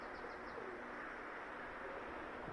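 Soft coos from pigeons, including Budapest crested pigeons, and a few faint chirps sit over a steady, fairly loud background hiss.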